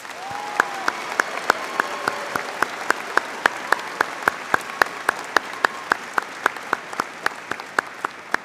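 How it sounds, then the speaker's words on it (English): Steady applause from a commencement audience at a College of Engineering graduation, dense and sustained with sharp individual claps standing out through the whole stretch. "Let's give them a round of applause, please."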